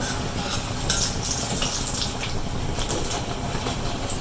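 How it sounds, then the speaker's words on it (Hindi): Continuous crackling sizzle of crispy fritters frying in hot oil, close up, with occasional light clinks of a utensil against the pan. "इनको दूसरी तरफ से भी फ्राई होने देते हैं।"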